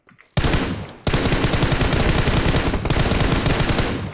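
Sustained automatic gunfire from the video game PUBG Mobile, loud and close, a rapid steady burst with a short break after the first shots, continuing almost without pause.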